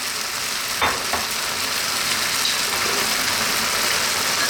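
Cooked pasta being stirred through cream sauce in a hot pan: a steady close sizzle and hiss with a couple of soft scraping knocks near the start.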